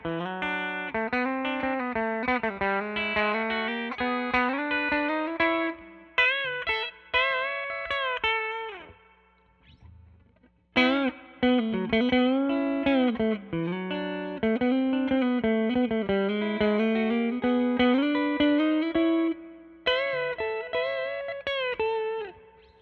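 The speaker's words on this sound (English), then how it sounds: "Let's hear some country licks maybe?" An offset Telecaster-style electric guitar plays quick, twangy country-style licks with bends and a slight distortion, briefly pausing before continuing up close.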